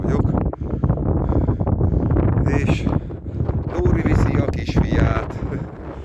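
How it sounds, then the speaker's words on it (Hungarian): Strong wind gusting at about 1400 m up a mountain buffets the microphone with a loud, rumbling roar that rises and falls throughout, while people talk under it. "mert eléggé fúj a szél"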